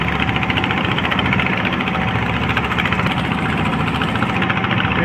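Steady drone of a boat engine on a wide river near large cargo trawlers, a loud, even low throb running throughout with no talk.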